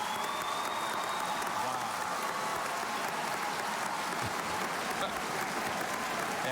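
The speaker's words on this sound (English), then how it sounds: "that roar you heard behind me is the crowd reacting" A large crowd at the Scripps National Spelling Bee 2025 finals roars and applauds, a dense, continuous wash of clapping and cheering sustained throughout, with a few voices mixed in.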